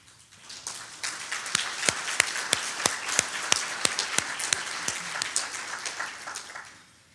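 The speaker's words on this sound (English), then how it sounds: "could you please stand for a round of applause?" Applause at a chamber lunch, starting softly, swelling into distinct rhythmic claps near the front over a dense background of clapping, then fading at the end.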